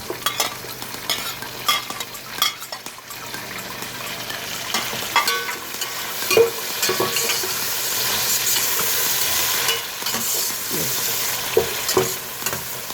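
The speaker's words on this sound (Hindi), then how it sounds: "अब मैं इसके अंदर ये टमाटर डाल रही हूँ और ये हरी मिर्ची डाल रही हूँ।" Tomatoes and green chilies sizzle steadily in a hot pan while a spoon scrapes and stirs now and then, close up, with no one talking.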